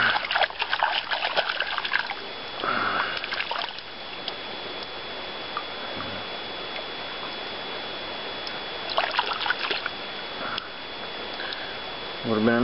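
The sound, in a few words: washing a stone artifact with water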